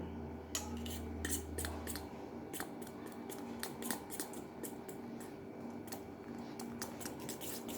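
Flour dough with egg, ghee and sugar mixed in a bowl makes quick, irregular clicking and tapping, light and close, running steadily throughout without any voice.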